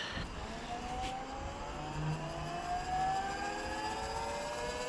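Astra power steering pump fitted to an LS1-swapped VN Commodore whining as the engine starts, a rising, jet-like whistle of several climbing tones over a low engine rumble, steady and moderately loud for about five seconds.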